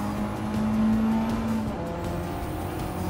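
A race car engine in Gran Turismo 7 holds a steady, loud drone while the car brakes, with a sustained tonal whine in the middle of the clip before it settles into a continuous engine roar.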